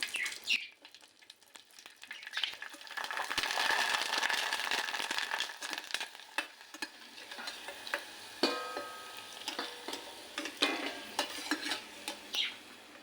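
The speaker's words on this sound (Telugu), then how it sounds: "ఇప్పుడు వీటిని ఫ్రై చేసి చూపిస్తానండి ఓకే అండి ఆయిల్ వేడైంది అది వేసుకున్నాము" Sun-dried rice rava vadiyalu fry in hot oil with a bright, dense sizzle that swells and then settles, joined by occasional clinks of utensils and spoon stirs close by.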